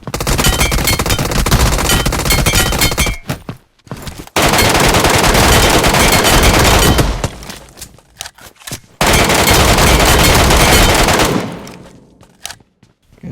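Rapid automatic gunfire in the video game PUBG Mobile, Metro Royale mode, rattles in three long, loud sustained bursts separated by short silences.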